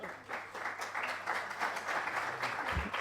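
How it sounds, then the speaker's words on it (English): Audience applause at a BIM conference presentation, a steady patter of many hands clapping that builds slightly and continues to the end. "You can applaud."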